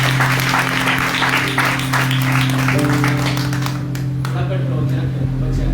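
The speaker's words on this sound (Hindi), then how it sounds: "आइए उसके नाम के लिए एक बार तालियां बजाएं।" A church congregation applauds together in a dense, sustained burst of clapping that tapers near the end, with a steady hum and some voices underneath.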